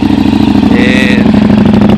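A KTM 950 SM supermoto motorcycle engine idles close by while warming up, a steady, throbbing rumble, loud and continuous throughout.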